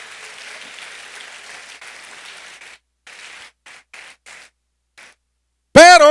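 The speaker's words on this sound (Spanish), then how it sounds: "¿Alguien le puede dar un aplauso al rey?" A church congregation claps steadily during a sermon, then the applause breaks into scattered bursts of clapping before a sudden loud, warbling electronic tone cuts in.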